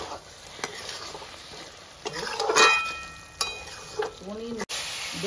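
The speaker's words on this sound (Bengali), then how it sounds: "আলুটাকে আমি ভালোভাবে কষিয়ে নেব, ঢাকা দিয়ে দিয়ে কষাবো।" Potatoes sautéing under a lid in a pan, a soft steady sizzle with brief stirring and lid or utensil clatter, one short tonal squeak midway, moderately close and alone without talk.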